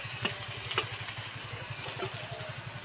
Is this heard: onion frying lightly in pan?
yes